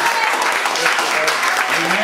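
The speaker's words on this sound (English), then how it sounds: "Give clap for the Lord for this group of people." Church congregation at a revival service claps for the Lord, a brief burst of mixed clapping beneath loud voices and an exclamation.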